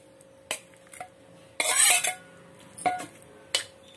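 Roasted brinjal is mixed into a curd chutney in a bowl: a spoon clinks against the bowl several times, with one longer scraping, rattling stretch in the middle.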